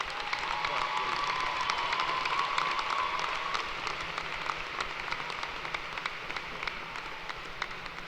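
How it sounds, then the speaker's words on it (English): An audience at a 2016 spring university commencement claps steadily in a dense, even patter of applause that fades slightly toward the end. "please join me in giving a big round of applause to these family members, friends,"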